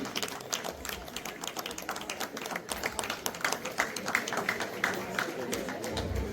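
Audience applause welcoming a guest at an awards ceremony held by Tamils in Holland, a sustained patter of many clapping hands with a murmur of the crowd beneath, fairly even and moderately loud throughout.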